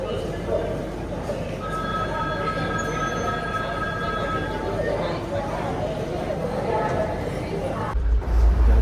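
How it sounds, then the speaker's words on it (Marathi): A Mumbai local train between Koparkhairane and Panvel rumbles steadily from inside the carriage, with faint high wheel squeals on the rails and people talking under the noise. "तर सध्या आम्ही कोपरखेरणे टू पनवेल लोकलने प्रवास करत आहोत"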